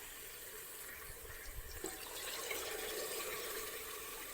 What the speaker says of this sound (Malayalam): മിക്സിയുടെ ജാറിൽ കുറച്ച് വെള്ളവും കൂടി ഒഴിച്ചൊന്ന് ചുറ്റിച്ചിട്ട് ഇത് മുഴുവനായിട്ട് ഇതിലേക്ക് ഒഴിച്ചു കൊടുക്കാം